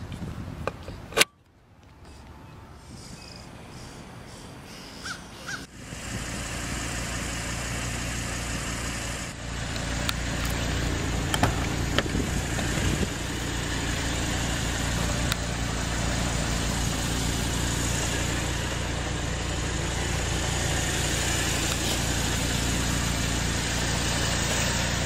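A 2012 Audi R8 Spyder's 5.2 FSI V10 fires up after a short crank with a sharp bark, then settles into a steady, smooth, moderately loud idle heard up close.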